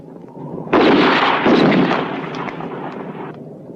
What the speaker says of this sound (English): Better keep firing.